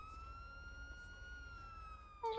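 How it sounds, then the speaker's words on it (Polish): A steady emergency vehicle siren holds a sustained wailing tone with harmonics, heard at moderate distance over low rumble, ending with a brief shift in pitch. "A te syreny dawać."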